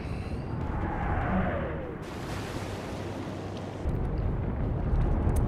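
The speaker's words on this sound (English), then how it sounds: "let's uh, start uh, shelling this guy" Naval guns shelling an enemy destroyer in the Atlantic Fleet video game, heard as rumbling booms and a broad noisy roar with a whooshing shell sound early on and renewed blasts toward the end, no talk.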